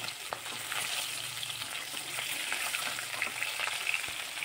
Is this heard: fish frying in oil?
yes